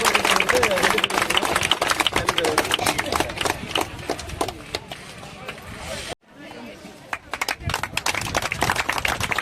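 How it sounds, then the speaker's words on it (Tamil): An audience claps for a cook, with a burst of sustained, fairly loud applause that stops abruptly and then resumes more sparsely, while people talk over it. "நம்ம தலைவருக்கு ஒரு சிறப்பான கைத்தட்டை கொடுத்து"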